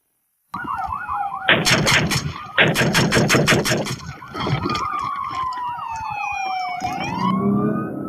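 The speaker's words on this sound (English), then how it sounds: "While the shots are still ringing out, Officer Robinson is gearing up, pulling out" Rapid bursts of close, loud gunfire ring out during a police standoff at a house, in two dense volleys and then scattered shots, as a police siren wails continuously throughout.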